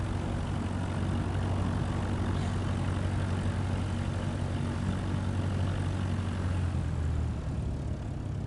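A Cessna propeller plane taxiing in Microsoft Flight Simulator 2024, its engine a steady, droning low hum that runs unbroken throughout.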